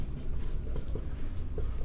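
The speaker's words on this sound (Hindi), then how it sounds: "यहाँ पे हम लोग लिख लेंगे" Pen or chalk scratching steadily across a writing surface during a Class 9 science lesson on units, continuous close strokes with no talking over them.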